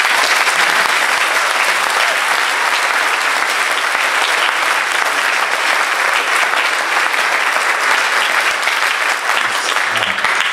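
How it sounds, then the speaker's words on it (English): A concert audience at a high school band performance with an Air Force band claps in dense, sustained applause that stays loud and even throughout, with faint crowd murmur beneath. "Can you give them a round of applause also?"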